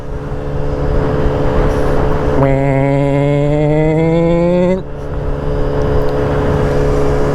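A Sym Symphony 50 scooter with a 50 cc engine runs at full throttle, its engine note jumping into a loud, rising whine for about two seconds before easing back to a steady drone.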